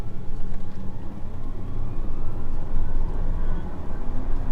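A McLaren Artura driving in electric E mode gives a steady low electric motor hum with faint whine, a continuous close rumble of road and drivetrain noise without pauses.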